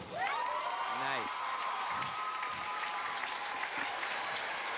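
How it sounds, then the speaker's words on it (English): Crowd applause at a girls' 1-meter springboard diving meet at a 1995 Illinois high school state championship, a steady wash of clapping in a large pool hall under continuous announcer commentary. "Crowd responds to the effort by Hannah Shin"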